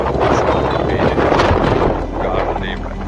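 Strong wind gusts at Dane John Gardens in Canterbury, England, buffeting the microphone with a loud, rough, continuous roar that eases slightly toward the end.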